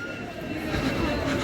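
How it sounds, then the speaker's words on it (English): A train rumbles at platform 5 of a railway station on the Redhill line, a close, continuous low rolling noise that grows slightly louder partway through. "Here we are, the train's with 3 minutes delay"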